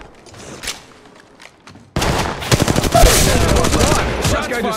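Gunfire in Apex Legends Mobile: quiet game ambience and faint voices, then loud sustained rapid-fire bursts of automatic weapons, dense and close, continuing for several seconds.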